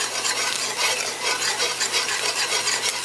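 Aromatics frying in sugar in a pot for stewed chicken, a close hissing sizzle with scraping stir strokes throughout, no voices.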